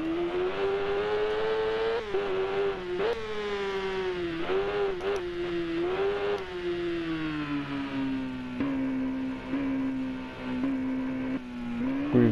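A Kawasaki ZX10R motorcycle in a racing video game screams along at high revs. Its engine pitch rises and dips with gear changes and throttle, loud and continuous without any talk.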